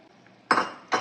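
Fried cashews and raisins dropped into ghee rice in a home kitchen pan, producing two short clinking scrapes of a metal spoon against the vessel, close and fairly loud after a quiet moment.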